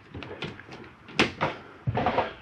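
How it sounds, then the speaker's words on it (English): A camper bathroom door in a Jayco Eagle 30 5CKTS RV clicks and thumps back into place with a few short knocks and rattles, close and moderately loud, with no talking over it. "You do have this bathroom door as well to snap back."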